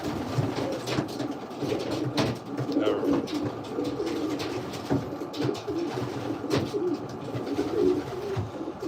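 Racing pigeons coo steadily in a breeder loft, a dense low murmur of overlapping calls with scattered flutters and knocks, continuous and fairly close throughout.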